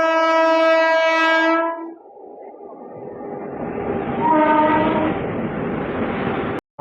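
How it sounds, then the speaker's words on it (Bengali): A MEMU passenger train setting off after a goods train has left, opening with a long loud horn blast, then a rising rumble of the train getting under way with a faint tonal whine, close by. "মালগাড়িটা ছেড়ে দেওয়ার পর আমাদের ট্রেনকে ছেড়ে দেওয়া হলো।"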